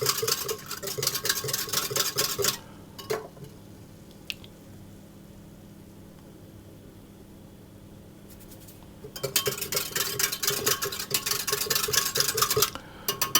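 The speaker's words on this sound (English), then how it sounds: "I'll put the sugar into the milk, and I'm going to" A spoon stirs sugar into milk in a bowl while making crumpet batter, giving bursts of quick scraping and swishing at the start and end with a quiet pause between them.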